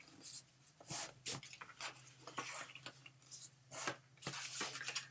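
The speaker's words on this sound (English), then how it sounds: "we're just going to fold along those score lines. Fold those 1/2 inch tabs." Paper card is creased and folded along score lines for a craft folio, producing a series of crisp rustling and scraping strokes at irregular intervals, close and fairly quiet.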